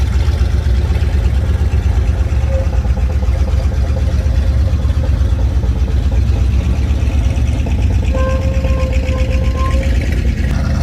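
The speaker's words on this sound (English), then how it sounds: "I'm gonna let it sit there and idle." An engine on snow removal equipment idles steadily and loudly at close range with a constant low rumble, and no one speaks over it.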